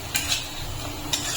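Ginger garlic paste sautéed with onions in a pan, a low sizzle broken by a few sharp scrapes and clinks of a spoon as the mixture is stirred.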